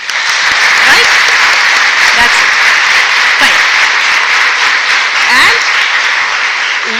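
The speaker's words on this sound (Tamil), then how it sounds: "எல்லாருக்கும் ஒரு தடவை கைத்தட்டலாம்" An audience at a Tamil talk claps together in a loud, continuous round of applause, even and close throughout, with faint voices underneath.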